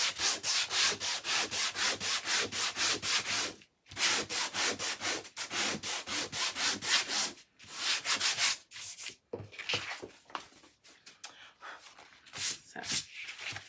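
Steady back-and-forth sanding strokes rub across a surface in quick, even rhythm, loud and close, pausing briefly before continuing with rougher, more irregular scraping.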